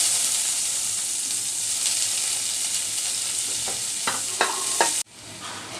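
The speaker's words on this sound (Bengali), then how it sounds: "এবার রসুন একটু বেজে নিচ্ছি" Garlic frying in a pan for a bitter gourd and catla fish mash, a steady close sizzle with a few stirring scrapes near the end before it cuts off abruptly.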